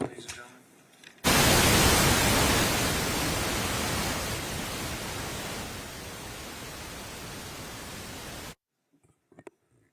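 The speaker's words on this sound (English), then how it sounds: "White noise on, ladies and gentlemen." A courtroom white noise machine switched on during a trial, a sudden loud, steady broadband hiss that holds for about seven seconds, fades slightly, then cuts off abruptly. Brief voices are heard before it starts and just after it stops.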